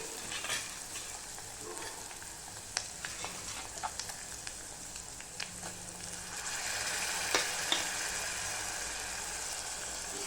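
Moong dal sautés in a pan with coriander, a steady broad sizzle running throughout, punctuated by scattered scraping clicks of a spoon stirring, growing slightly louder toward the end; no one speaks.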